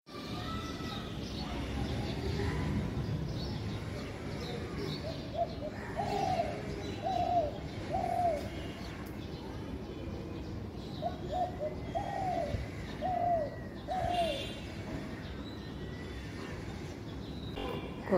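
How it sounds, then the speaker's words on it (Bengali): Pigeons and doves sit in the sun after rain and coo in soft repeated phrases, in two clusters, over a constant low background rumble. "পায়রা আর ঘুঘু এখানে ভর্তি।"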